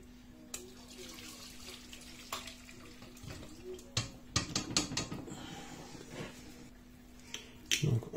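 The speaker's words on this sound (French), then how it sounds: "Donc maintenant je vais passer le bouillon." Meat cooking broth being strained, liquid pouring and splashing with clinks of utensils against a pot, growing busier toward the end over a steady low hum.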